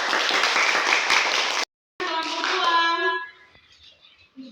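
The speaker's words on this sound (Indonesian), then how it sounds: "kita memberikan aplaus kepada kelompok 1" A classroom group applauds a student group, dense clapping for about a second and a half, then a short gap, then a voice speaking over fading claps.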